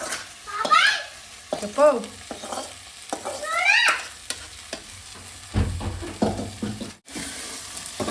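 Okra sizzles as it fries and is stirred in a pan in a village home kitchen, with scraping stirs over steady frying and a brief spoken word nearby.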